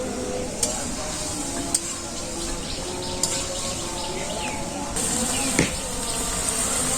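Banana fritters and fish fry in oil with a steady crackling hiss that grows louder partway through, while birds chirp in the background and the food is stirred now and then.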